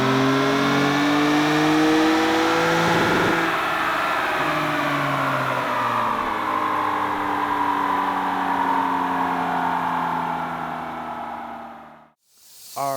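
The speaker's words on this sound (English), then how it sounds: "We'll kind of cruise at highway speeds for a minute and see what the drone sounds like" Toyota Tacoma aftermarket exhaust droning at steady highway cruising speed: a continuous, loud, even engine hum with a slowly shifting pitch that fades out abruptly near the end.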